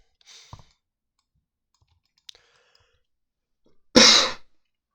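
A single sharp cough right at the microphone, loud and close, following a few faint clicks and breaths in an otherwise quiet room.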